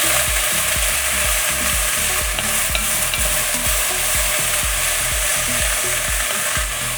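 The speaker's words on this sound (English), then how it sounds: "our carrots, and our celery. And saute this." Carrots and celery sautéing in a pot, a constant close sizzle broken by rhythmic scraping and stirring strokes about twice a second, with no talk.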